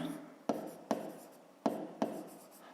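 Pen writing on paper during a fifth-grade maths exercise, four sharp taps of pen strokes at uneven intervals, each trailing into soft scratching, quiet and close with no talking.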